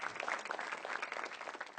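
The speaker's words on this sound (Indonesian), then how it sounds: "Tepuk tangan dulu." Quiet applause from a stand-up comedy show audience on Metro TV, a soft, busy patter of many hands clapping at a distance, continuous and with no voices over it.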